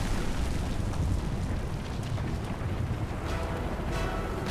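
A loud, sustained roaring blast of explosions and rumbling booms from explosives detonating in the Avatar video game, with dense low-end rumble and scattered sharper bursts throughout.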